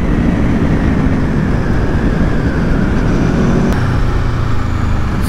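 An Aprilia Tuono V4 motorcycle engine roars under hard riding, a loud sustained rumbling drone mixed with rushing wind noise, steady and close throughout.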